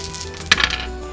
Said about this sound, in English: roll 4 6-sided dice and subtract the lowest result